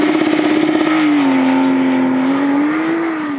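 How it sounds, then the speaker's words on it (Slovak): A Porsche Taycan 4S electric car launches hard from a standstill, its electric motors giving off a loud, steady rising whine that holds near and strong with a slight pitch dip as the two-speed rear gearbox shifts. "skúsime, ako funguje v elektromobile launch control"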